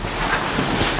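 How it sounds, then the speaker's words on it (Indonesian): A whirlwind tears roofs off village houses and topples trees in Central Java, a loud, rough roar of wind buffeting the microphone throughout a single second. "Terlihat angin menerbangkan atap rumah warga dan juga merobohkan pepohonan yang ada di sekitarnya."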